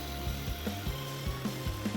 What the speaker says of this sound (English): I'm using a 1/2-inch bowl gouge to hollow out the bowl